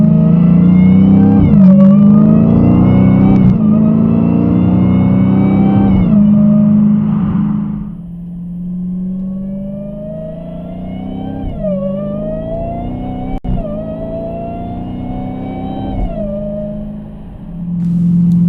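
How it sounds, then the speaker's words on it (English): A car engine revs repeatedly, rising and falling in pitch through several throttle blips, captured by Thinkware Q800 Pro and BlackVue DR900s dashcams; loud at first, then quieter idling and further revs. "what would a comparison video be without some sweet car sounds?"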